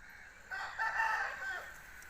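A single Aseel fighting rooster crows once, a short strained cock-a-doodle call nearby, over faint background noise.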